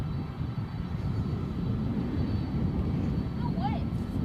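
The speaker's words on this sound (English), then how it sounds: "I think we've got an aborted takeoff" An airplane aborts its takeoff at Edinburgh airport: a steady, distant roar of aircraft engines runs throughout, with people talking over it and a brief chirping sound near the end.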